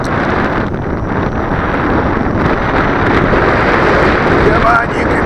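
Strong gusty wind roaring across the microphone on a windy day while an MJX X400 drone flies nearby, a loud steady buffeting rush that masks other sounds, with someone talking through it.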